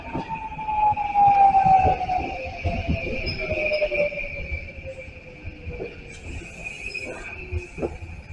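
A three-car Class 821 local train rumbles and clatters as it rolls into platform 2 at Sojo University-mae Station on the Kagoshima Main Line, with a high steady whine and a falling tone, and faint voices in the background.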